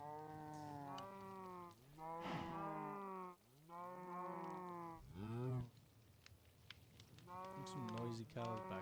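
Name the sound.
cows mooing in Sky Factory 5 video game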